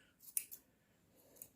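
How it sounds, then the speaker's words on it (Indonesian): Manual scissors snip through the long, matted fur of a Persian cat being groomed, giving a few quiet, close, crisp cutting clicks separated by brief pauses. "Ini pakai gunting manual."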